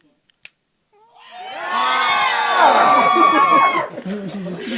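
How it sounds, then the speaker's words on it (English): A crowd at a World Press Freedom Day commemoration screams together on cue, a loud sustained burst of many mixed voices including children, rising after a brief quiet start with a small click, then tapering into scattered shouts. "Everyone must scream, right? If you don't scream, we'll do it again."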